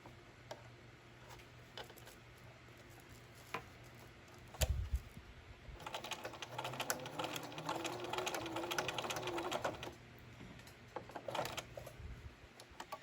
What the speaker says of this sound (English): pivot your hot pad and sew directly into the corner